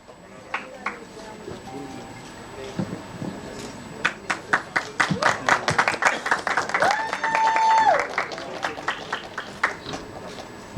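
Audience at an Ek Villain Returns event claps, building from scattered hand claps into dense applause with whistles and cheers, under a loud hall mix and a voice over the crowd.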